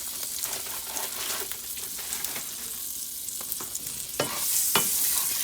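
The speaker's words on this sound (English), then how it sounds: "So I'll add the other 1/4 tablespoon of butter and melt it back in the pan." Butter melts in a hot pan ahead of toasting a tortilla for a keto buffalo chicken quesadilla, sizzling and crackling steadily up close with a few sharper pops and no talk.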